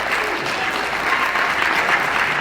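Steady, full audience applause fills a live event hall in Los Angeles, sustained and even from start to finish with no voices rising above it.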